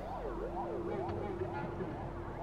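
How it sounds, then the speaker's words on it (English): A wailing ambulance siren from a pizza delivery video game, rising and falling steadily in a continuous loop over a low engine drone. "That's not even a real ambulance."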